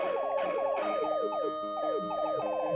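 Chiptune background music from the Famicom game Thexder, a quick arpeggiated melody of bright square-wave notes repeating over a soft bass line, faint and steady with no talk over it.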